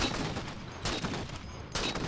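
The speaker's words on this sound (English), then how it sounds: "Oh, I heard some shooting." Distant gunfire in the Halo 4 video game, heard as a few faint bursts of shooting against quiet background noise.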